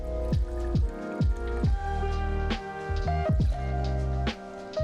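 Tito's vodka being poured into a jigger for a Bloody Mary, a glugging liquid pour with repeated gurgling bubbles in a steady rhythm, close and clear with no talking.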